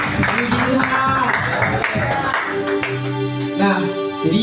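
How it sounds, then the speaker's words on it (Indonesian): Audience applause fills a church hall during a youth Christmas celebration, a dense wash of many hands clapping with cheering and voices mixed in, fairly loud and steady before thinning toward the end. "Boleh minta tepuk tangan sekali lagi dong."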